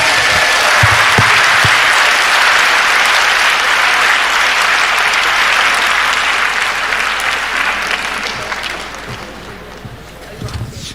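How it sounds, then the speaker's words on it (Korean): Sustained audience applause following a lecture at a church gathering, dense and loud throughout, tapering slightly toward the end. "귀한 강의해 주신 우리 이 교수님께 박수로 감사의 표시를 드립니다"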